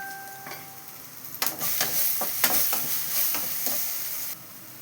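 Curry leaves drop into hot oil and crackle and spit, a burst of close, uneven sizzling pops that begins after a quiet start, holds for a few seconds and then cuts off.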